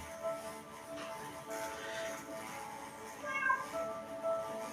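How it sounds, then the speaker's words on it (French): A hungry house cat meows repeatedly over several seconds, close by, its calls spaced out against a soft indoor background with faint shuffling. "Voilà mon chat qui me cherche."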